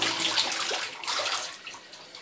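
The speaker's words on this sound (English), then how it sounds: "Water going everywhere." Water spraying and hissing from a leaking tap mid-repair with a faulty top, a steady broadband rush that stays fairly loud throughout, with no talking.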